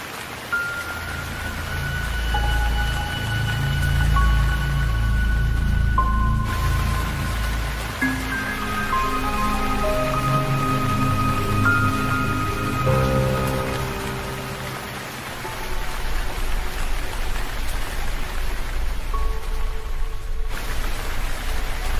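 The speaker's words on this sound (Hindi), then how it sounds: "बारिश रुकने का नाम ही नहीं ले रही है।" Heavy rain in a cartoon pours as a continuous wash of hiss under soft, sustained musical tones, loud and steady throughout, with no voices.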